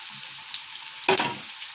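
Onions and spices frying in a pan, a steady soft sizzle with one sharp clatter of stirring about midway, close and alone with no voices.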